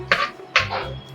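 A metal ladle clinks and scrapes twice against a pot of dal with green chilli and tomato for sambar, close and fairly loud, with a softer scrape trailing after.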